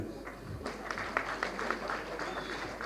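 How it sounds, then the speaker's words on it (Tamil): Audience at a Tamil film event clapping, light scattered claps with audible individual hits, moderately close and fairly sparse rather than a full roar. "நீங்களே ஒரு தடவை கைத்தட்டிருங்க"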